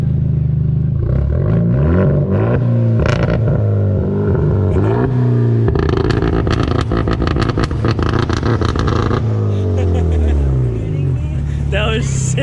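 A Mopar car engine revs at a downtown Lemont car show, rising and falling in several throaty bursts up close, with people talking and cheering over the rumble.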